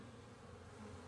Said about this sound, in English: they're just buzzing around me